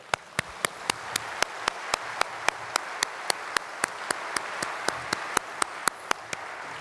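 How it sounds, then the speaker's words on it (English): An audience applauds at the IAC 2017 opening ceremony: a steady wash of clapping from a large crowd, with one sharp, evenly timed clap repeating over it for about seven seconds. "That deserves a round of applause."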